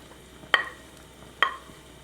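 A spatula stirs paneer and cauliflower frying in a pan, making two sharp scraping clinks about a second apart over a faint background sizzle.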